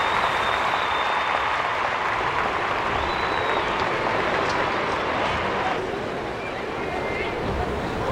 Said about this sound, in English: The winners' fans are cheering